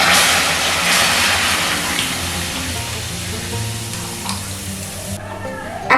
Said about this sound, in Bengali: এখন আমি এর মধ্যে দিয়ে দিচ্ছি 500 ml দুধ।